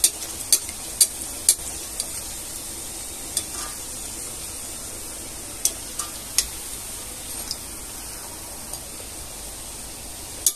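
Rose-shaped puri frying gently in oil over low heat, a soft continuous sizzle with scattered sharp ticks and pops, fairly quiet and close, no voices.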